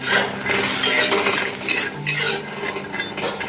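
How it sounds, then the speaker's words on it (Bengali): Chickpeas frying in ghee in a wok for a festive offering, a dense sizzle mixed with scraping and stirring of a metal spatula, fairly close and continuous. "ওই জন্য ছোলাটাকেও ভেজে নিচ্ছে"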